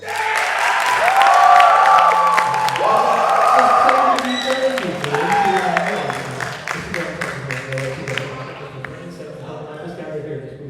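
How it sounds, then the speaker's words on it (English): A high school crowd at a comedy hypnosis show cheers loudly, with whoops, yells and clapping that swell early and then taper into scattered applause. "On 1, 2, and 3, give them a huge cheer."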